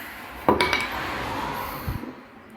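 A sharp metallic knock rings out as a hammer taps a bearing into place on a mower hub, followed by a couple of duller taps a moment later, close by in a quiet workshop.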